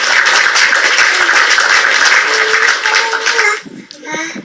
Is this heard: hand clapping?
yes